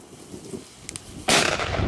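A single sharp bang from a cheap firecracker bursts out after a quiet moment, followed by a brief rumbling tail, moderately distant.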